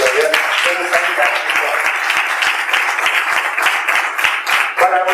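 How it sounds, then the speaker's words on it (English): A crowd claps and applauds steadily for several seconds at a civil services symposium, a dense patter of many hands. "I want to give a great applause to all my youth members who are here"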